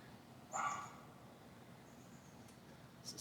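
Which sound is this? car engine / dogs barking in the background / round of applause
dogs barking in the background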